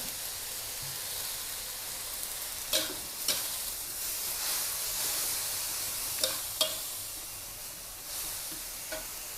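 Glass noodles stir-frying in a pan, a continuous bright sizzling hiss punctuated by several sharp spatula scrapes and taps against the pan, close and alone.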